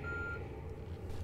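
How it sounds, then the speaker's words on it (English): Electronic timer beeping in the Two Worlds 2 role-playing game, a thin steady tone at the start over a low rumbling game background, no talk. "Oh, there's the timer."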